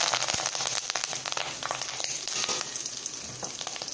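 Cumin seeds and curry leaves fry in hot oil with a sharp, close crackling sizzle, brief loud spits at first settling into a steadier hiss.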